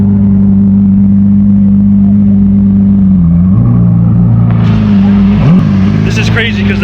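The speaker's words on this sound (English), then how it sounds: "Try not to get run over by this red Aventador" A red Lamborghini Aventador rolls past at a supercar show at McLaren of Philadelphia, its engine a loud, deep idle drone that shifts pitch midway before a sharper rev and rising mechanical noise near the end.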